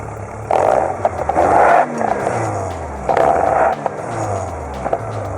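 A Subaru boxer turbo engine revs in loud repeated surges, each lasting about a second, separated by quieter idle stretches, with a rough, burbling exhaust tone heard up close and no talking.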